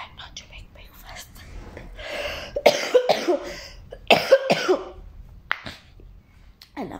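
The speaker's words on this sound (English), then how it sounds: "it's like a young dry cough" A person with a cold gives a few dry coughs and throat clears, close and fairly quiet, between soft whispered talk.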